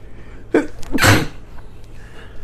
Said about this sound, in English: Hang on, I'm gonna sneeze.